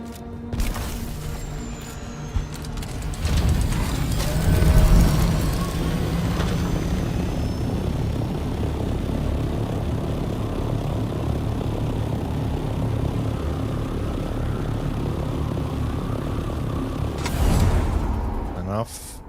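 Ornithopter aircraft in Dune: Awakening, a continuous rotor-like engine drone throughout, swelling in a couple of places, with people talking over it.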